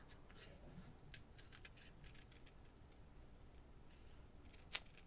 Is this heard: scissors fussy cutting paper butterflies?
yes